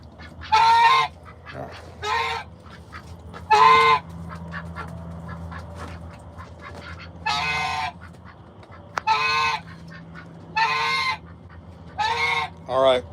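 Backyard geese honk in loud, repeated bursts at feeding time among chickens, ducks and turkeys, with close honks separated by short pauses over a low steady hum.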